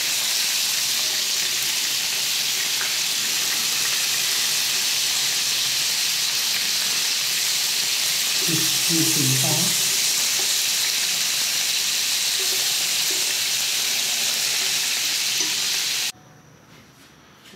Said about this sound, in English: Afterwards, we will fry the leftover batch.